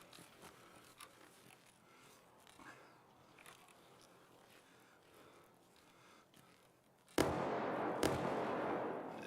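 Gunfire in Escape From Tarkov from a Scav raider, faint and distant shots scattered through the first seconds, then a loud, sudden burst of heavy firing close by near the end.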